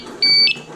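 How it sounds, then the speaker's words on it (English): A Scott X3 SCBA firefighter air pack sounds its no-motion alarm, a single sharp, loud high-pitched electronic beep lasting about a third of a second, heard alone in a quiet room. "Because this pack is not sensing any motion, it's gonna alarm."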